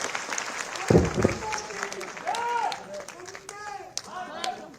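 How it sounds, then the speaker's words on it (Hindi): Audience clapping at a ceremony unveiling a statue of Maharaja Agrasen at MAMC in Haryana, with a sharp burst of claps early on before voices and crowd chatter take over. "जोरदार तालियां बजाएं।"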